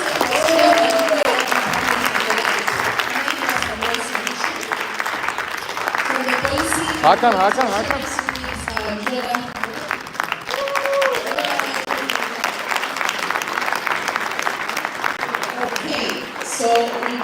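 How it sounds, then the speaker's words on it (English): Audience applause at a conference, a steady wash of clapping lasting the whole stretch, close and fairly loud, with a presenter's voice briefly heard over it. "A round of applause."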